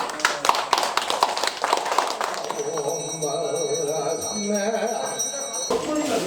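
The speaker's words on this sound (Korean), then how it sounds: "박수 치세요." Hands clap in a rapid, uneven burst at a Buddhist dedication ceremony at a temple hermitage, followed by a sustained ringing, bell-like tone.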